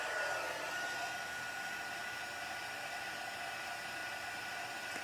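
Steady broadband whoosh of an embossing heat tool blowing hot air to set embossing powder on black cardstock, continuous and fairly loud for the whole stretch with no talking.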